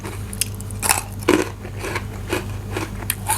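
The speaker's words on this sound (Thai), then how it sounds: "มาเอามากินเอาเห็ดหอมก่อนพี่น้อง เบิ่งว่ามันจะกรอบหรือแข็งนะครับ" Crispy baked shiitake mushroom bitten and chewed close up, a series of sharp dry crunches in an irregular rhythm over several seconds, no talking.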